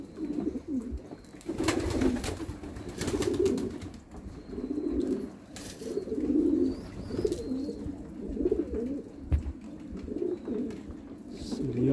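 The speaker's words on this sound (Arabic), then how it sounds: "عم يطير وبطير الحمام معهم وبينزل وبيرجع بينزل" Domestic pigeons flying over a rooftop loft, with soft repeated cooing and flutter in a steady outdoor murmur lasting throughout; a voice is faintly present in the background.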